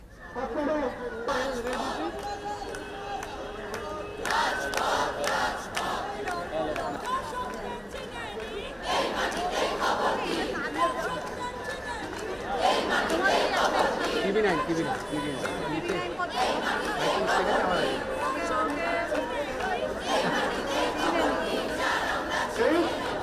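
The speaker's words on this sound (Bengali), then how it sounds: "রাজপথে ফের মহালা দিনও প্রতিবাদের স্লোগান" Junior doctors on a protest march through city streets chant slogans in unison, a large crowd voicing rhythmic, repeated calls over constant crowd chatter, loud and sustained throughout.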